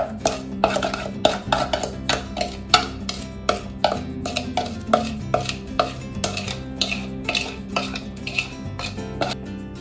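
A mixing spoon stirring banana bread batter of mashed bananas, egg, sugar and butter in a bowl, knocking against the sides in a steady rhythm of about twenty close, bright clinks over a soft wet churn.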